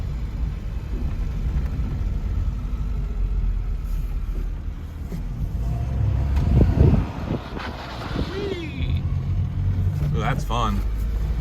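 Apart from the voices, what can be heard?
Smart Fortwo car engine starting and running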